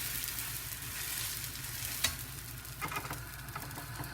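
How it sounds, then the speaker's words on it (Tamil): A green moong dal dosa with a little ghee sizzles in a hot pan as it is flipped, a soft, steady frying hiss with a sharp scrape at the turn and a few light taps afterward, quiet and close, with no speech. "இப்போ நான் தோசை திருப்பி போடுறேன்."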